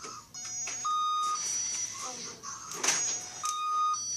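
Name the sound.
door alarm beeping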